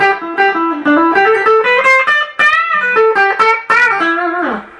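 A Telecaster electric guitar on the bridge pickup, no compressor, with a bright, slightly distorted tone plays a quick melodic phrase of single notes and bends, close and clear.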